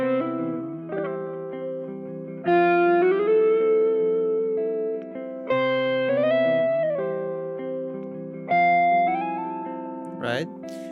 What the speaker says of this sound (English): And then I can play that in octaves.